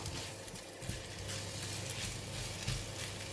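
Prawns, egg and rice being stirred and tossed in a pan over low heat for Pattaya fried rice, with a steady soft sizzle and scraping under continuous mixing, no talk.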